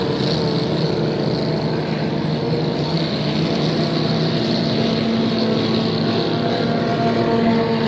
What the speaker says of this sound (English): that yellow and blue boat that just came by on the outside